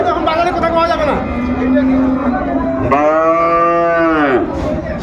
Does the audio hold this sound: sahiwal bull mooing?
yes